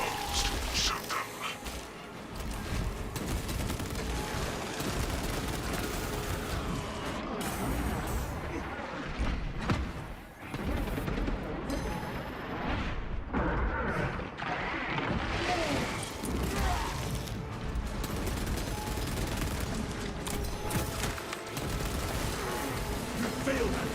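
Constant gunfire and heavy blasts from the Space Marine 2 video game during a siege, a dense, loud barrage of shots and crashes over roughly twenty-four seconds with voices mixed into the din.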